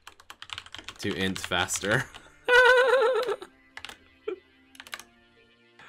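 Fast clicking on a computer keyboard during a League of Legends match comes in quick bursts, close to the microphone and partly under a man's speech.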